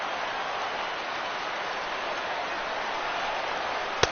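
A huge stadium crowd of more than 37,000 at a Red Sox versus Yankees game in MLB The Show 16 roars steadily, a dense, continuous wash of cheering that holds level throughout with no talk over it.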